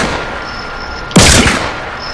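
Revolver gunshots in a battle royale video game, a single loud sharp blast with a brief crackling tail standing out against a steady low background hum.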